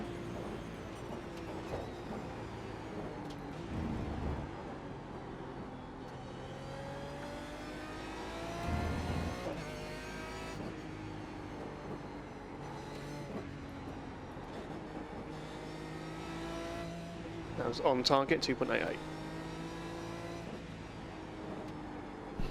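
Race car engines from a racing game at Suzuka roar loudly and steadily for the whole stretch, their pitch sweeping up and down through gear changes, with a brief louder burst near the end and a short line of speech early on.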